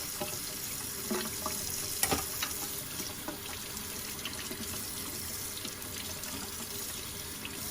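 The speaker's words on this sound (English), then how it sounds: "now you want to rinse all the parts off, all the tools" Hot tap water runs steadily over old tool parts being rinsed in a sink, a continuous hissing splash with occasional clinks and knocks of metal pieces, close and uninterrupted.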